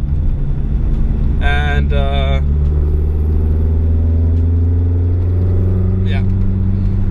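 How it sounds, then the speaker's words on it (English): Loud in-cabin drone of a car engine held at wide open throttle under a standalone ECU running lean, with steady low rumble throughout and a brief spoken word early on. "I could also do a full throttle pull, so wide open throttle"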